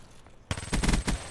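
Hip-fired automatic gunfire in Black Ops 3, a short rapid burst of loud shots breaking in suddenly after a quiet moment.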